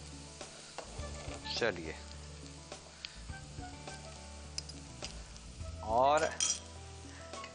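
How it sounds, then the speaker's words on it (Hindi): Ginger-garlic paste fries in a pan with a soft, steady sizzle, under light clinks of utensils against the pan and a brief spoken phrase. "अब अदरक और लहसुन ये पेस्ट डाल देते हैं हम।"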